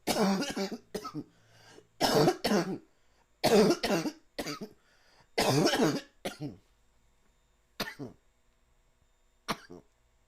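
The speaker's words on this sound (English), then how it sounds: "That was a good cough." A series of harsh, loud coughs in bursts, some in quick pairs, separated by pauses and trailing off into smaller coughs.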